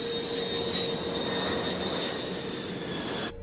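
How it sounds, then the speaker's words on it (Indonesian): Airliner suffering engine damage on its landing approach, rendered as a steady, loud, continuous roar with a high whine running throughout, no voices over it, cutting off abruptly at the end. "Saat ini pesawat itu mengalami kerusakan mesin."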